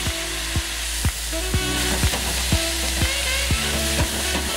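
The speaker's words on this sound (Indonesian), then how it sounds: "Kita aduk agar bumbunya merata dan juga meresap." Shirataki noodles and bean sprouts stir-frying in Pad Thai sauce, with a steady sizzle and regular, evenly spaced scrapes and taps of a utensil against the pan, close and moderately loud with no talking.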